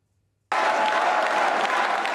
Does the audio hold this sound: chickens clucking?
no